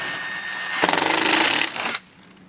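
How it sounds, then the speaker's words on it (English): A power drill whirs loudly into a plastic fender on a Polaris RZR Pro R for about a second, rattling steadily, then winds down after a brief quieter tail. "we're going to drill nice slow into the plastic"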